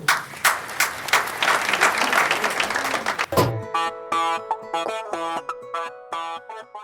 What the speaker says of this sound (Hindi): अगर आप जोरदार तालियां बजाएं